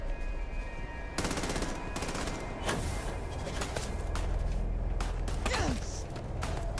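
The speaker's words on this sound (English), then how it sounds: "I have a full auto shotgun. With explosive rounds." A full-auto shotgun with explosive rounds fires in the Starfield video game, letting off dense bursts of rapid blasts over a constant noisy game backdrop with occasional whooshes.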